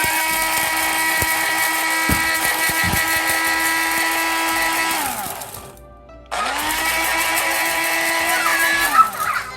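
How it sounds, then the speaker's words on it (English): A kitchen blender whirs loudly as it chops ingredients for Szechwan boiled pork, a steady high-pitched motor drone that winds down, pauses briefly, then spins back up to full speed. "add it to the blender, and then shut the lid and blend it"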